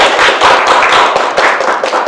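An audience applauds continuously to welcome a speaker at a lecture on running webinars with Zoom, a dense, steady wash of many hands clapping for about two seconds with no talk.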